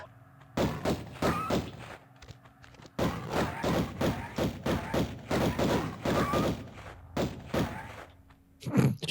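Lara pushes a heavy stone block across a floor in Tomb Raider Remastered, making a run of dull, deep thuds and grinding scrapes in uneven clusters, fairly close, with no voices.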